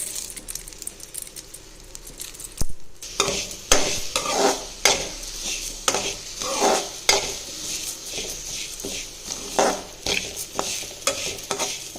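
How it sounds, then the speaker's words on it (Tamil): Black urad dal is dry roasted in a kadai on the stove and stirred with a metal spoon. Steady gritty rustling and scraping run under repeated sharp clinks of the spoon against the pan, close up, with no speech. "இந்த உளுந்தை போட்டு இப்போ ட்ரையாக வறுக்கணும்."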